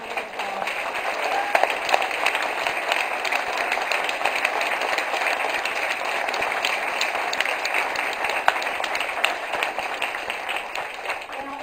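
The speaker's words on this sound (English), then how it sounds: "I'd like to have you give a round of applause." Steady, dense applause from a campaign rally crowd honouring military veterans, continuous clapping with no break throughout.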